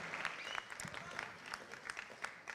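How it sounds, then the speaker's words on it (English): Quiet applause from the audience at a middle school moving-up ceremony, honoring the senior chorus, scattered claps sounding somewhat distant and low, with a few sharper individual claps. "Let's give another round of applause for our senior chorus"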